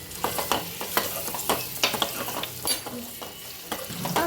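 Egg biryani ingredients sizzle and fry in a pan while a spoon stirs them, steady close crackling under repeated scraping strokes, with no talking.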